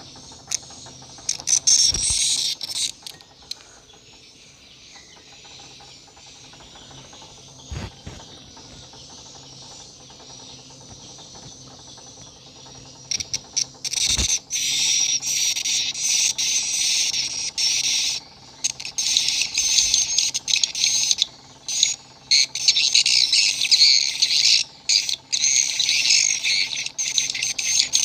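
A shrill, chirping, twittering swiftlet roosting call recording plays through a speaker, quiet at first then loud and continuous, with occasional clicks and knocks.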